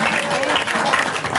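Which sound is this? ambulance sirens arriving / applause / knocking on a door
applause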